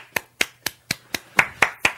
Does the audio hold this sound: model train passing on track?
no